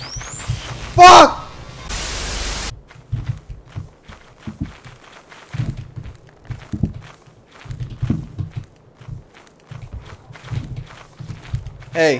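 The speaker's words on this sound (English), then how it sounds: "I'm hearing so many footsteps." Footsteps in a horror video game sound as a steady run of soft, evenly spaced thuds through the whole stretch, following a loud burst of static near the start.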